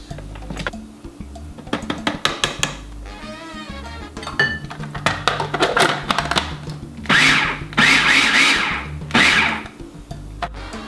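A food processor pulses a thick black bean burger mixture in short repeated bursts, with chopping whirs, clatter and scraping between pulses.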